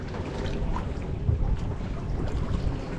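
Wind gusts buffet across open water at a floating fishing raft house in Malaysia, a soft, rough rush with low flutter from the microphone, faint and steady, with no talk.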